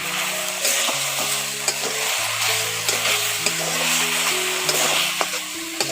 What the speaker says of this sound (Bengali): ওগুলো দিয়ে একটু ভালো করে নাড়াচাড়া করে পুঁই শাকগুলোকে একটু কষে নিচ্ছি।